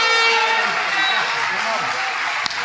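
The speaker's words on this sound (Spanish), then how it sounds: "Dele un aplauso al Señor Jesucristo." A church congregation at a Spanish-language sermon claps and cheers loudly in a dense, continuous wash of applause, with voices mixed in throughout.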